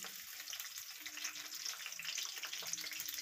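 Onions frying in hot oil, a steady, fairly quiet crackling sizzle with a soft hiss that carries on without a break for the whole stretch.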